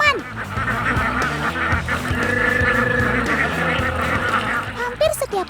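Alabio ducks honking and quacking loudly as a crowded flock is fed, with many overlapping nasal calls forming a dense, continuous chorus close by.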